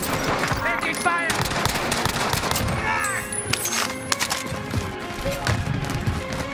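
Rapid bursts of gunfire in a Call of Duty Warzone firefight, dense and loud, with overlapping shots and other game sounds while people talk throughout.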